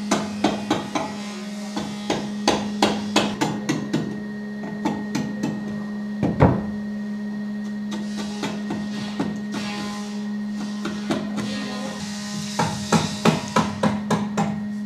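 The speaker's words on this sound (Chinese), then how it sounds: "用锉刀这样子慢慢的修改。" Wood rasp filing a joint beside a corner post while a wooden house is built in the countryside; rhythmic scraping strokes in steady bursts, close by, over a constant electrical hum, with no talk.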